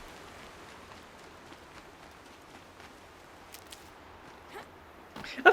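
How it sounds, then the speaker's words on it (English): Rushing water in the video game Horizon Zero Dawn: a faint, steady wash of noise that flows on without pause, with a few small splashy ticks near the end. "That's really good rushing water."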